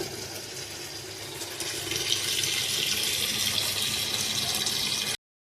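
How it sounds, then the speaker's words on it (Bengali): Water flows steadily from a tap through a washing machine tap adapter, a continuous close hiss and splash that grows slightly louder after the first two seconds and runs unbroken with no talking. "সেখানে কোনো লিকেজ হচ্ছে না, কিন্তু দেখতে পাচ্ছ এখানে প্রপারলি কিন্তু জল পড়ছে"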